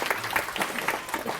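An audience at a Korean technical seminar gives a brief burst of clapping, moderately loud and dense, lasting just over a second.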